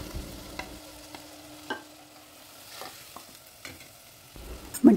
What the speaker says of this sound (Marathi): कांदा छान लालसर झाल्यावर मग टमाट्याची प्युरी टाकली, ती पण छान कमी गॅसवर परतवून घेतला